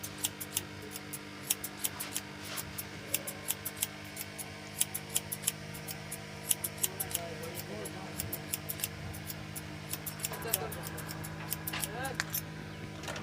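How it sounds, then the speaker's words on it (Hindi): Scissors and a comb work through damp hair during a haircut, giving a steady run of faint, fast metallic snips and clicks close up over a low background hum. "पानी का छिड़काव करने के बाद कैंची और कंघी का सहारा ले रहे हैं, और बिल्कुल आसानी से बालों को सेटिंग कर रहे हैं।"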